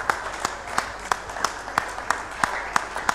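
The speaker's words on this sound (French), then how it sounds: "Je vous prie d'applaudir bien fort," Audience applause at a trophy award ceremony held by the Canadian ambassador in the DRC, heard as a steady wash of clapping over 3 seconds, with sharper individual claps at a regular pace and faint voices underneath.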